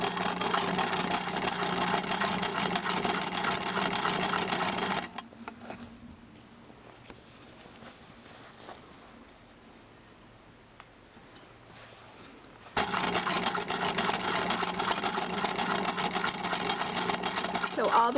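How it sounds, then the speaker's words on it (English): A sewing machine top stitches a cloth diaper cover, running in a fast, steady mechanical rattle for about five seconds, falling quiet for a long pause with only faint handling noise, then starting up again at full speed. "I'm going to top stitch it in place"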